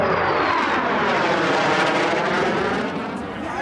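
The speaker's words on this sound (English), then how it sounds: "Rolls the aircraft." An aircraft rolls for takeoff with a loud, steady engine roar close by that slowly eases toward the end.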